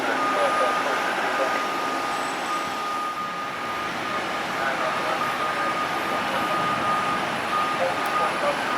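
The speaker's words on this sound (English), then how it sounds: "Southwest on their takeoff roll." Southwest Airlines airliner on its takeoff roll at Cleveland airport, a steady broad engine roar heard at a distance, holding evenly throughout with a faint tonal whine above it.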